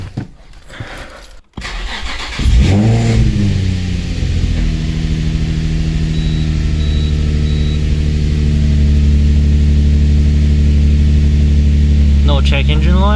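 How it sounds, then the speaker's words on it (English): A car fitted with a new plenum spacer cranks briefly, catches and settles into a steady, loud idle that hums on evenly for about ten seconds, recorded close with no talking. "I'm going to start the car up."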